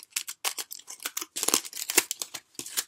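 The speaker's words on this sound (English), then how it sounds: "Let's unwrap this food. It's like a little burrito." Burrito-shaped food packaging is being unwrapped up close, giving a rapid series of crisp crinkling, rustling and tearing bursts with no talking.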